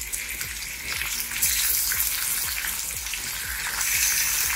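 Pork sizzling with half-cooked onions in a pan for pork binagoongan, a close, continuous crackling fry with light stirring and scraping throughout.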